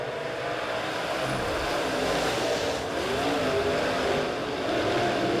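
Dirt track race cars of the Super Dirt Series roar off turn four at Springfield Raceway during a heat race, a dense, steady wall of engine noise with no clear gaps between cars.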